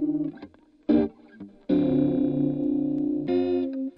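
Electric guitar recorded in Logic Pro plays short plucked phrases and a sustained chord, each note followed by a quick stereo slapback echo that gives a bouncy, doubled feel.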